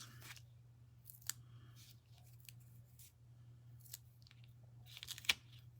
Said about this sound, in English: instead of cutting them, I'll just tear them like that